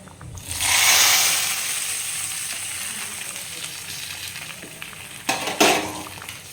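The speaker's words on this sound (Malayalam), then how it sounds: "കടുക് വറുത്തത്" A loud burst of sizzling as hot fried mustard-seed tempering hits a pearl spot fish curry, fading to a steady fry, with a couple of sharp clattery scrapes near the end.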